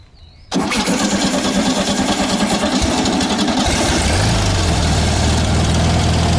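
After a short quiet lead-in, a 1975 Volkswagen Beetle engine cranks and catches, then settles into a loud, steady, slightly lumpy idle, heard close up without talk.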